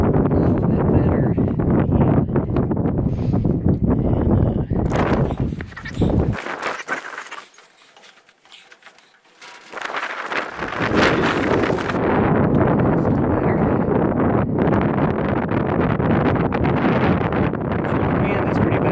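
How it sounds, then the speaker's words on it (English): Strong winter wind buffets the microphone on a Smoky Mountains ridge along the Appalachian Trail, a loud continuous roar that drops off briefly midway before surging back. "The wind is blowing pretty bad up here, and it's starting to cool off a little bit."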